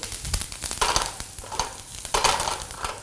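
Onions frying in a pan for an apple cider chicken dish, a steady close sizzle with soft crackles and stirring scrapes swelling in two bursts, no talking.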